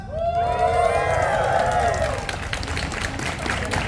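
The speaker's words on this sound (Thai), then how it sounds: "ขอเสียงกองเชียร์ชาวเชียงใหม่หน่อยครับ" A crowd at a Muay Thai fight event in Chiang Mai cheers and whoops, a steady, dense roar of voices, with an announcer's voice over it and a rising whistle-like tone at first.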